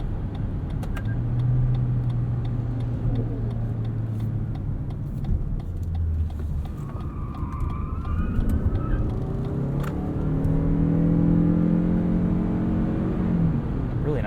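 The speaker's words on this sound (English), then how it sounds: "Let's do a quick 0 to 60 here while we've got some open road." A 2022 Lexus NX 450h+ F Sport in sport mode accelerates hard on an open road, its engine and motor drone rising steadily in pitch inside the cabin, with a continuous road rumble underneath.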